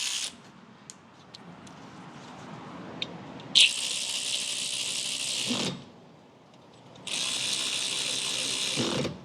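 A ratchet with a 12 mm socket tightens rear brake screws on a 2011–2017 Honda Odyssey. Two sustained bursts of rapid close-up clicking follow quieter handling noises, with a short pause between them.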